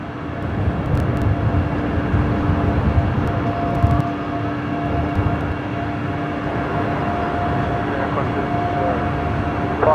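Velocity airliner rolling for departure from a runway intersection at Brisbane Airport, a steady distant engine roar with a low rumble and faint tonal whine, continuous throughout with no voices.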